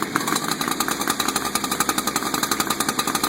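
A chainsaw just started from cold sits at high idle, a loud, close, steady buzzing rattle with fast regular pulsing and no voices.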